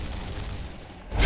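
Gunfire in Gears of War comes as a dense, booming burst of shots, close and loud, with a heavier blast at the end of the short moment.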